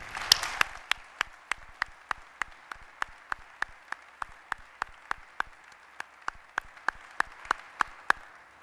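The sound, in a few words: round of applause at a change of command ceremony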